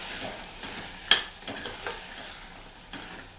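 A spoon stirs salt through a brinjal and pea curry in a pan, giving a soft wet sizzle with a sharp scrape or clink early on and lighter stirring after.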